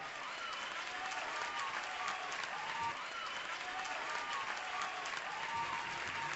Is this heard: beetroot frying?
no